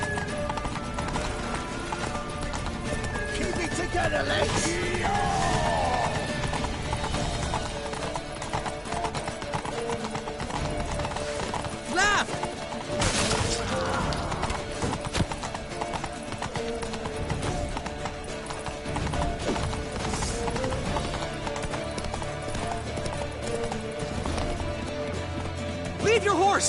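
Video game: steady rapid hoofbeats of galloping horses run throughout, with occasional whinnies, a dense rumbling mix, while voices shout over the action.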